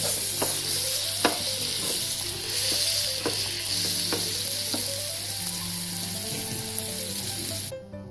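A sandwich toasting in butter in a pan makes a loud, steady close sizzle with intermittent sharp pops and spatters throughout, no voices.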